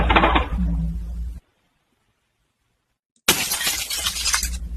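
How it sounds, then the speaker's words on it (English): Glass shatters loudly and abruptly, a bright crash that cuts to near silence before a second harsh burst of breaking glass, both sharp, close and noisy. "the way the glass broke right away"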